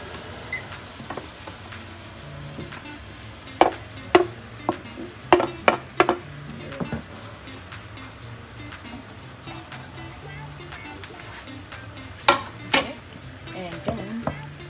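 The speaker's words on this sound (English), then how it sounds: "So now we're adding the shrimp and we're going to saute them together with the mushrooms" Shrimp and mushrooms sautéing in a pan for a Jamaican seafood boil, a soft sizzle under repeated sharp clinks and scrapes of a utensil stirring against the pan.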